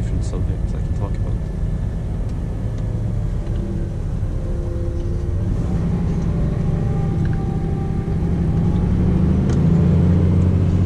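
A Scania P420 truck drives along with a constant deep engine rumble and road roar from inside the cab, growing slightly louder toward the end while someone talks over it.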